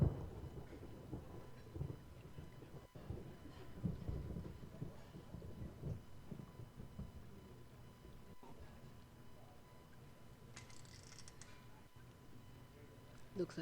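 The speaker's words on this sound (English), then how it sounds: "Looks like the rain's letting up." Rain falling steadily in The Pandora Directive, with low rolling thunder rumbling underneath and a few sharper cracks, quiet and continuous throughout.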